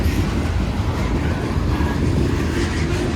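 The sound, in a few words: freight train with mid-train DPU locomotive passing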